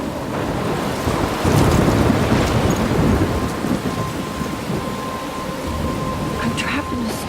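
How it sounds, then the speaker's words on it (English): Storm ambience in the video game Life is Strange: a steady roar of heavy rain with low rumbling thunder that swells in the first seconds, continuous and enveloping. "I'm trapped in a storm?"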